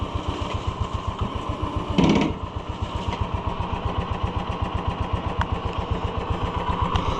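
A side-by-side UTV engine with a power bed idles steadily and smoothly, a loud close rhythmic chug with a brief clatter partway through, alone with no talk.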